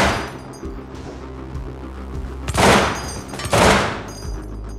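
In the video game Receiver, shots are fired at a turret: two loud, close gunshot bursts ring out about a second apart, each with a sharp crack and a fading metallic tail over a low background drone.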